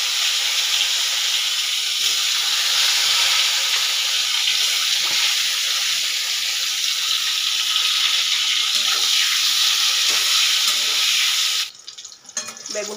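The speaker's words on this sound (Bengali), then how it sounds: "ভেজে নিতে হবে বেগুন" Eggplant pieces frying in hot oil in a pan give a steady, bright hiss that holds for about eleven seconds, then cuts off abruptly, leaving only faint, uneven residual noise.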